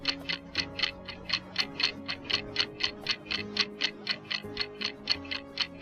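A clock ticks steadily in a quiet home, each tick crisp and evenly spaced at about three per second, over a soft sustained background tone.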